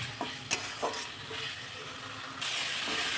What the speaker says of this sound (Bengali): মশলাটা কষিয়ে নিচ্ছি ভালো করে।